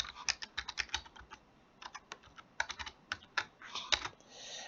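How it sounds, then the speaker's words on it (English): Someone types a password on a computer keyboard: a quick run of light key clicks in uneven bursts with short pauses, close and fairly quiet, and no voices. "So let's type in a password, and we will have to type it in twice."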